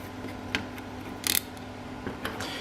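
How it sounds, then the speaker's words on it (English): A screwdriver drives a screw from the back of a circuit board into a standoff, making small clicks and one brief ratcheting scrape, close and fairly quiet over a faint steady hum. "You need a screwdriver, of course, to tighten it."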